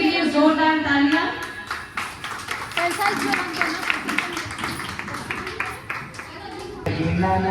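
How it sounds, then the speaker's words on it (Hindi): A crowd at a society celebration of a welfare foundation applauds women dancers, a dense run of clapping that swells and carries on for several seconds, with people talking over it at the start and end. "तो हमारी नारी शक्ति के लिए जोरदार तालियां।"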